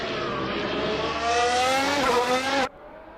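Race car engine in a VR racing simulator game, a loud sustained high-revving drone that climbs in pitch, then cuts off abruptly near the end, leaving a faint background hum.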